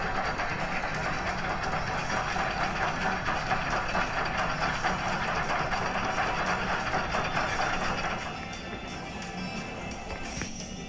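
A bobsled coaster ride in the video game Theme Park Tycoon 2 gives a steady, loud rolling rumble like a train on rails, dropping slightly in level near the end.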